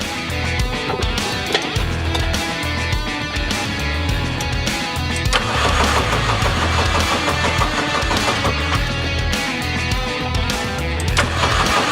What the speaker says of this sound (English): I have to rotate the engine over for 5 seconds, 3 consecutive times